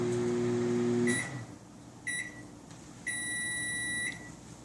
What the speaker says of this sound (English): just wait for the beep.